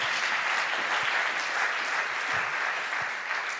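A church congregation applauding together, a steady, dense wash of clapping that holds at an even level throughout without a break.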